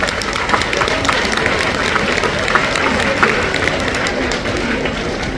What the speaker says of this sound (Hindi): आप लोगों को ताली बजा के इनका सम्मान करना चाहिए